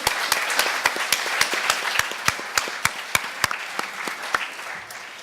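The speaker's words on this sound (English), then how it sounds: "let's give a round of applause for some community colleges today" An audience at a college speech and debate night claps in a short burst of applause, crisp individual claps standing out over a dense patter that tapers off near the end.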